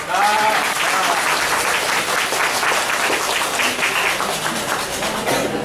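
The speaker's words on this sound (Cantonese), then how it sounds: "我哋俾個鼓勵嘅掌聲支持佢得唔得啊？" An audience at a political talk gives sustained encouraging applause. A brief voice is heard at the start, then many hands clap in a steady, moderately loud stream for nearly six seconds.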